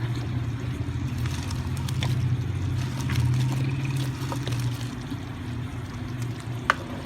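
Pakoras added to thick Punjabi kadhi and stirred in the pot: a low bubbling simmer with gentle sloshing and stirring, close and steady, ending in a single small clink.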